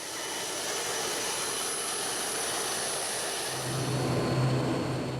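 A steady, loud roar of a domestic-flight airplane engine in Indonesia, continuous broadband noise with a low hum swelling near the end.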